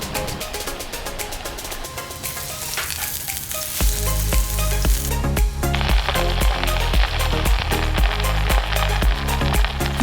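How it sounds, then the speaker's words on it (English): Lamb dumplings sizzle and fry in hot oil in a pan, with a steady crackle running under loud, rhythmic music that kicks in partway through. "a little bit of oil into a hot pan and then snuggle our dumplings in there"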